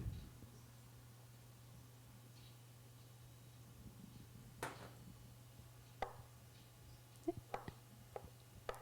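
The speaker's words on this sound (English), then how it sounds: "And chop them all together." A knife chops anchovies and tuna on a cutting board, giving faint, scattered taps at first and then a closer cluster of quick chops over a steady low hum.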